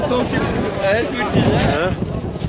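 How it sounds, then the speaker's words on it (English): Strong outdoor wind buffets the microphone at the start of an endurance running race, a steady low roar with gusty swells, while people talk over it throughout. "It's really windy."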